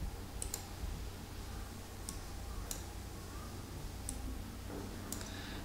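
Sparse, sharp computer mouse clicks, about six spread over several seconds, fairly close and crisp against a steady low hum of room noise.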